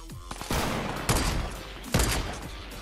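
Three loud bursts of rapid Fortnite video game gunfire crack out about half a second apart, each with a short rattling tail, with no speech.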